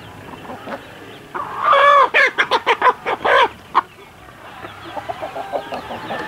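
Roosters on a farm with chickens and compost give a loud, near series of rhythmic crowing and clucking calls in the middle, with quieter clucks trailing off afterward.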